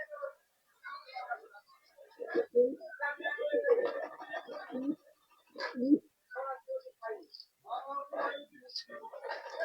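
Kal Duma and Madras pigeons coo in a loft, soft low repeated coos and murmurs close by, mixed with someone talking.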